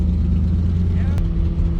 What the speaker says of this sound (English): I have to put my foot on the brake and keep the revs on.